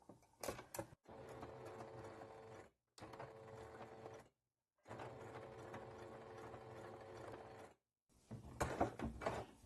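A sewing machine stitches bias binding, beginning at the fold of the strip. The motor runs close and steady in several bursts of a few seconds each, separated by short silent pauses.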